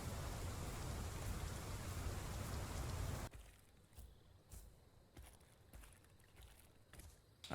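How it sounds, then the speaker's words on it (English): Rain falls in the dinosaur game Path of Titans, a dense steady hiss of rain on the ground that cuts off abruptly partway through, leaving a quiet stretch with scattered soft thuds and light patters. "They really nailed the rain in this game"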